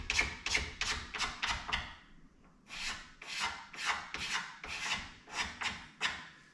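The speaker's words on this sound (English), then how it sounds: "take the blade from a utility knife, put it flat across the cut surface," A flat utility knife blade scrapes across the cut face of a carved 2x4, giving about a dozen rhythmic raspy strokes in two bursts with a short pause between them. The strokes are close and crisp, and no one speaks.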